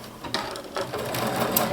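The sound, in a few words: sewing machine stitching fabric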